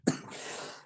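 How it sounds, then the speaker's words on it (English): A single short cough bursts out close to the microphone, followed by a brief fading breathy tail. "oh man, that got me coughing"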